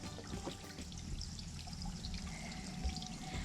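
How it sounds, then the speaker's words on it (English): Soft, continuous trickling water in a creek along a hiking trail, with light splashing and gurgles, fairly close, under a faint outdoor background hum. "you can hear water trickling down through here"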